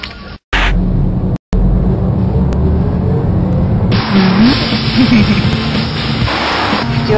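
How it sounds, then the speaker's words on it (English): A car driving fast: a loud, steady engine and road roar fills the whole stretch, cut by two brief dropouts near the start, with faint whining tones over the rumble later on. "Do you always drive this fast?"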